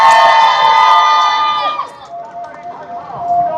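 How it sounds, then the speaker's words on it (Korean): A crowd at a university student rally cheers and shouts to welcome the next speaker, a loud burst of high-pitched voices that fades into scattered calls and murmurs. "참가자분들을 환호로 맞아주시기 바랍니다"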